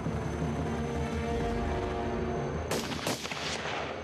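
Gunfire during a commando assault exercise with an armoured vehicle, heard as a couple of sharp, fairly distant shots cracking over a constant loud rumble of engines or machinery.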